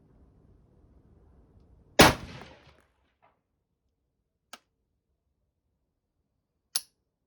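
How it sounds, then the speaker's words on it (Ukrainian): A single sharp shot from a Mossberg MMR Pro 5.56/.223 rifle cracks and quickly dies away in a quiet setting while sighting in a scope, followed later by two brief metallic clicks. "Пробуємо ще зробити постріл."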